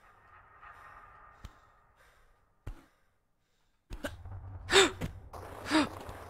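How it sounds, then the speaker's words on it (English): An enemy in Tomb Raider 2 Remastered gives heavy, gasping breaths and sighs, two strong exhales near the end after faint background game sounds and a few soft thuds. "I hear a baddie. And he's breathing heavy."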